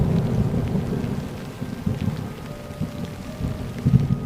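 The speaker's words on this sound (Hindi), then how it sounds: "लेकिन उसी रात आसमान अचानक गरज उठा और जोरदार बारिश शुरू हो गई।" Heavy night rain pours steadily with deep rumbling thunder rolling underneath, a dense continuous downpour heard alone without any voices.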